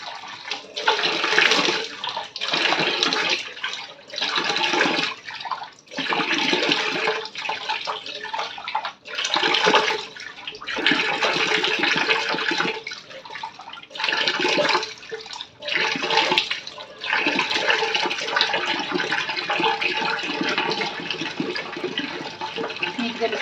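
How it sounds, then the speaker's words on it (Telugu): Tap water running and splashing in bursts while a face pack of banana and Vaseline is rinsed off, close and loud with short pauses between splashes. "ఇప్పుడు ఫేస్ వాష్ చేసుకోవడమే"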